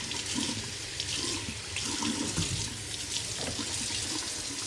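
Hands washed under a running tap, a steady close rush of water splashing into a sink with no pauses and no talk.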